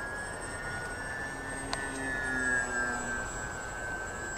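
Twinstar RC model airplane in flight outdoors, a steady high electric-motor whine holding at a constant pitch over a broad wind-like hiss, fairly distant and even throughout.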